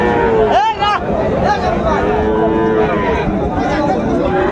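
A bull calf moos once, a short rising bellow standing out over a steady background of crowd chatter and general cattle market noise.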